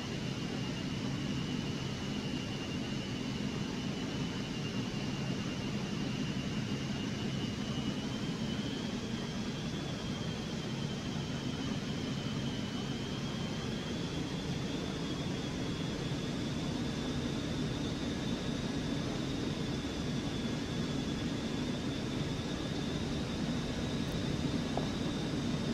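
A Cessna Citation Mustang jet in a flight simulator game taxis off the runway with a steady, continuous turbine whine and hum whose pitch drifts slowly upward, unbroken and without speech.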